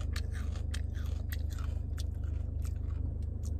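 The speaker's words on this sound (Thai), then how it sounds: "กินกล้วยทอด" Crunchy bites and chewing of fried banana up close, with repeated crisp crackles every fraction of a second over a steady low hum in the background.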